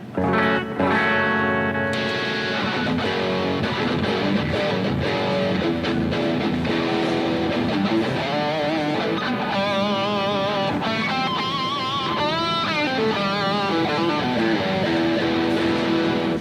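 A heavily distorted electric guitar played through Fender gear plays chugging low riffs and sustained chords, thick with effects and reverb, loud and continuous.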